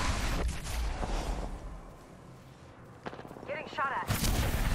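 Bursts of Apex Legends gunfire crack out in quick sharp volleys, with a dull thump and a brief pause in between, mid-level and mixed with game sounds.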